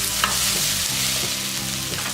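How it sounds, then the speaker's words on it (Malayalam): Grated coconut and tomato roasting over a high flame in a pan, a steady close sizzle with a few quick scrapes as it is stirred. "തേങ്ങയും തക്കാളിയും കഴിച്ച് നന്നായിട്ട് ഒരു 5 മിനിറ്റ് ഹൈ ഫ്ലെയിമിൽ ഞാൻ നന്നായിട്ട് വറുത്തെടുത്ത് തരും"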